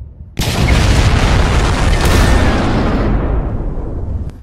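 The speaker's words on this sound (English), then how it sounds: "the bomb went off and exploded" A powerful bomb detonates at a church, a sudden loud boom followed by a long, heavy rumbling roar that slowly fades over several seconds, with no voices.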